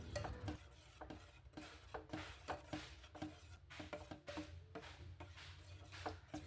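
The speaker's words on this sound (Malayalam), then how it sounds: "എന്നിട്ട് വീണ്ടും മിക്സ് ചെയ്യാം." Arrowroot pudding mixture stirred in a pan, a steady scraping and rubbing of a spoon against the pan bottom repeating in uneven strokes, close and fairly quiet with no talking.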